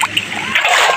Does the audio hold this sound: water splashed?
yes